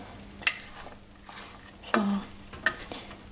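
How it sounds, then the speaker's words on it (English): Zucchini pasta is stirred in a pan on the stove, three distinct scraping strokes against the pan over a soft background sizzle, close and quiet with no speech. "So I'm going to give that a stir"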